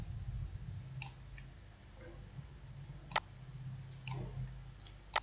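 Mouse clicks on a forum link come through as a few sharp, isolated clicks spaced a second or so apart over a quiet room hum.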